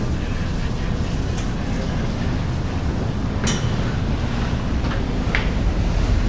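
Wind buffets the open deck of a ferry crossing fair-sized sea swells, a steady roar of gusting air and rushing water with a few faint, brief clicks and knocks.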